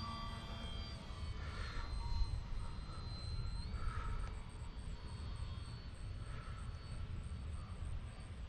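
An OMP Bighorn radio-controlled model airplane drones steadily through the air after takeoff, its thin electric whine faint and distant against outdoor background noise.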